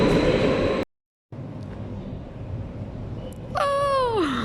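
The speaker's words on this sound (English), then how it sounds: "Bye bye train." A Minsk metro subway train departs a quiet, modern underground station: steady rolling rumble, a brief dropout, then a rising electric motor whine that glides downward as the train pulls away, fairly close and loud, with no talking.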